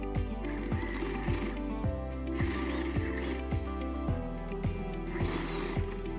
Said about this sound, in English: simply sew it again slightly more inward